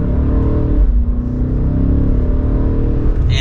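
A 2023 BMW M8 Competition Gran Coupe engine revs loudly and close up, with a deep steady exhaust drone and a shift in pitch as the transmission jumps through gears, with no speech.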